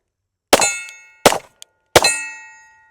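Three sharp metallic clangs ring out as .40 rounds from a Glock 23C Gen 4 strike a steel target, each strike loud and ringing briefly, with a faint tick between the second and third.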